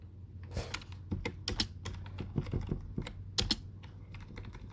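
Fingers tapping a computer keyboard while entering Python code, a quick, uneven run of close, crisp key clicks with a few heavier strokes.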